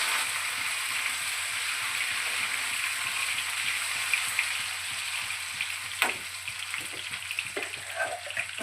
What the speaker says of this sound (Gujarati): જો સરસ મજાનો વઘાર થાય છે.